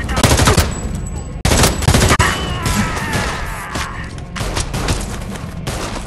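Rapid machine-gun bursts and gunshots crackle through a firefight in the video game Homefront: The Revolution, loud and dense with brief gaps, fusillades overlapping one another with booming impacts.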